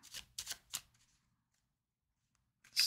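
Tarot cards shuffled in three quick riffling bursts close to the mic, followed by silence and then a short crisp flick as cards are drawn.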